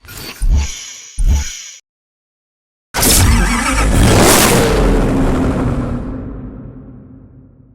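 A Koenigsegg Agera supercar in the racing game Need for Speed Hot Pursuit gives two short loud revs, falls silent, then lets out a long, powerful roaring rev that holds and fades away.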